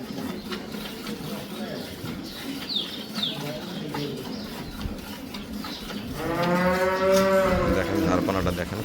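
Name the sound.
cow mooing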